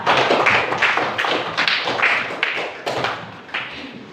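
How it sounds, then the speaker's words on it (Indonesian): Children in an Indonesian classroom give a round of applause for a pupil named Nadifa, a loud, close, rhythmic burst of many hands clapping. "Tepuk tangan untuk buat Nadifa."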